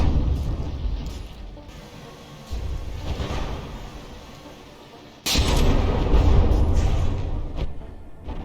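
Shells slamming into a battleship turret in the From the Depths naval combat game: a steady rumble of heavy booms and blasts, with a sharp, louder impact hitting abruptly and the barrage staying stronger and denser afterwards, no talking.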